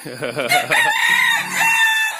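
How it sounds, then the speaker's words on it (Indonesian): Long-tailed chickens crowing and clucking nearby: a loud drawn-out crow with rising and falling pitch, preceded by rapid clucks, close and prominent. "mungkin agak suara berisik-berisik sedikit karena terganggu ini sama ayam-ayam ekor panjang ini"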